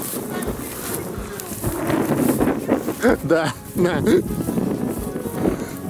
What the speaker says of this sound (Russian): Ветрище страшный.